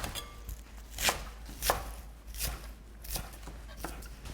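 Knife chopping water dropwort (minari) on a cutting board while preparing kimchi seasoning, a series of sharp, irregular chops close by, about six distinct strikes spread over a few seconds with no talking.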